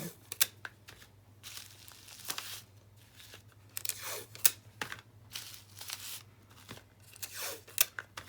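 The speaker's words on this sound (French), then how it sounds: "Et je vais la coller avec du scotch" Several short bursts of clear adhesive tape being pulled, torn and stuck on, crinkly ripping sounds at irregular intervals, close and fairly quiet with pauses between.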